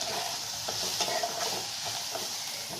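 Chopped onions, capsicum and carrots stirred in a frying pan for chilli garlic noodles: a steady close sizzle with scraping spatula strokes every so often, no voices.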